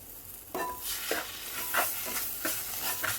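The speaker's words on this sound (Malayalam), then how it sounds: "ഈ അരപ്പ് നമ്മൾ അരച്ച് വെച്ച അരപ്പ് ഇതിലോട്ട് ചേർക്കുകയാണ്" Ground spice paste stirred into a pea curry in a pan, with a gentle sizzle beneath a series of rhythmic scraping strokes of a spoon, close and without any talking.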